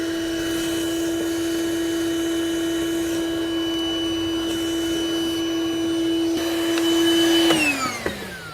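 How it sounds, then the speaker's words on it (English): A shop vacuum draws excess oil out of an engine cylinder on a 2008–2011 Ford Focus during a valve cover gasket job, a steady close motor whine with a strong constant tone that rises in pitch and then drops near the end. "That's a lot of oil just to be sending into the cylinder, so I'm gonna go ahead and vacuum that out"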